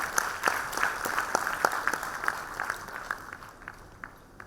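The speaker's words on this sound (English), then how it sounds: "Everybody, put your hands together for a round of applause." Scattered applause from a graduation ceremony audience, a thin stream of distinct individual claps at close range that gradually tapers off and grows fainter toward the end.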